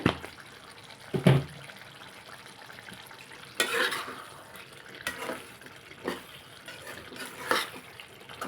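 Eggplant and chana dal curry being stirred in a pan, giving a few scattered scraping and clinking strokes over a soft, steady sizzle, close by and fairly quiet, with no talking.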